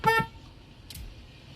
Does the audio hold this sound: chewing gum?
no